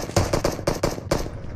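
Rapid bursts of automatic gunfire in the PUBG Mobile battle royale game, six or so sharp close shots in quick uneven succession.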